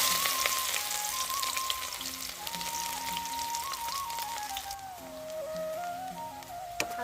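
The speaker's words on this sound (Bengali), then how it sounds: "হালকা লাল ভাবে আমার পেঁয়াজটা ভাজা হয়ে গিয়েছে" Onion frying in oil after whole cumin, a continuous bright crackling sizzle throughout, with a faint tonal hum underneath and no talking.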